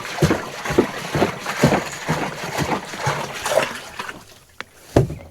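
Liquid cow urine poured into a large volume of water for a crop spray, a series of splashing, gurgling glugs at irregular intervals, close by, with a couple of sharp splashes near the end.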